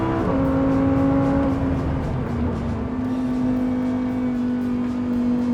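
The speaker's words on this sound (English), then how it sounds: "In second, I keep hitting fuel cutoff because it feels like it just wants to rev forever and ever and ever." A Lamborghini Huracan V10 on a race track at high revs in second gear, a loud continuous howling engine tone holding near its limit with rapid pulsing, close inside the car, no talk.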